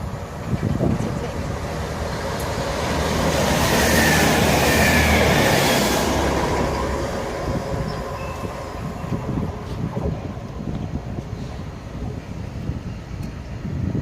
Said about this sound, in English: the 12:17 Great Western Railway service from Great Malvern to London Paddington